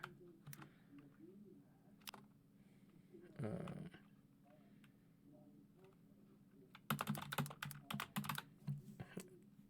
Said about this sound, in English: I'm typing so I can type /raid